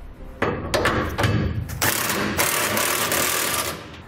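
Impact or power tool snugging trailer hitch bolts with a 3/4 inch socket on a 2016 GMC Sierra 1500, a burst of rapid rattling hammering with several sharp taps, loud and close.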